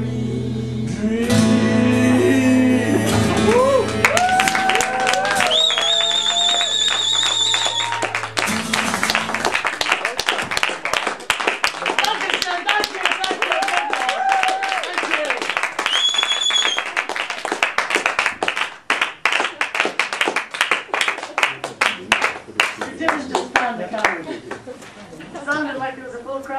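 A live audience applauds after a song at a concert in the Passage Cinema, Bremerhaven. Fading sung notes give way to a long run of steady, crisp clapping from a modest crowd that continues to the end.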